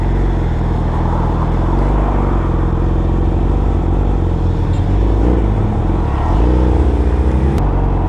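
Heavy road traffic with many cars streams past close by, a loud unbroken engine rumble with swelling revs and passing vehicles throughout.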